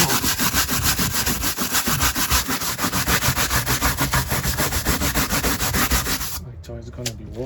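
Greasy Freightliner FLD120 truck dashboard being scrubbed, a loud rhythmic back-and-forth rubbing that keeps a fast, even pace, then stops abruptly near the end.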